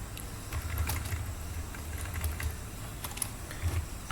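Fingers tap quickly on a computer keyboard while HTML code is entered, giving irregular bursts of light clicks over a low steady background hum.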